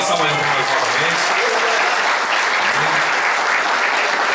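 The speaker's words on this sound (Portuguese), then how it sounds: "Uma salva de palmas novamente." A crowd at a church thanksgiving service claps in sustained, loud applause, dense and continuous from start to finish, with faint voices mixed in.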